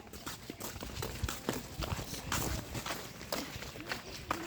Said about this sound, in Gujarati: જો ભેંસ આવે છે